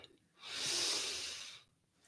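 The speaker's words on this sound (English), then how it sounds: "Gently breathing, exhaling the round." A single slow, soft exhale during chair yoga, a smooth airy breath that swells and fades over about a second in a quiet room.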